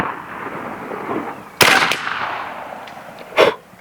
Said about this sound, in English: Right side target, round nose, fire.